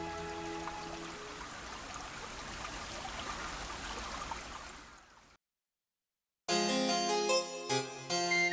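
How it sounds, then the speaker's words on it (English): Water flows and trickles steadily in Kenrokuen garden in summer, a soft continuous wash that fades out, goes silent, and gives way to a brief tonal passage at the end. "The summer passes in Kenrokuen with the sound of flowing water."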